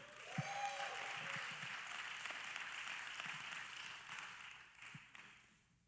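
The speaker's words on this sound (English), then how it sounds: "please welcome with a round of applause" Audience applause welcoming the co-owner of McElroy Supreme Buildings to the stage at an entrepreneur summit in Houston, steady and moderately loud across the room before slowly tapering off.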